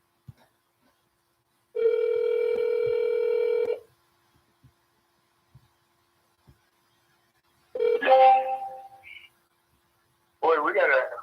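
Redialing a telephone call: a few faint clicks, one long steady ring tone, then brief garbled line noise and a short connection sound, separated by quiet stretches.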